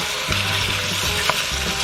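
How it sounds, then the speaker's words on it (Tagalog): Ground beef browns in a hot pan, sizzling and crackling steadily, with a few brief stirring scrapes over the constant frying hiss. "So we're gonna start browning our ground beef."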